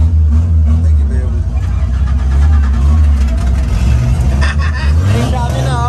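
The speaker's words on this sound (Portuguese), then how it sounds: "deixa eu ensinar vocês da partida no carro" A Chevrolet Omega's engine is cranked and started, then revved loud and close under a steady idle rumble, while people talk and shout nearby.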